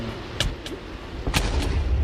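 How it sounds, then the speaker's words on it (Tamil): Two or three short muffled blasts from an explosion in Minecraft, heard at moderate distance over a low rumbling game backdrop with no talking. "வெடிச்சிருச்சு."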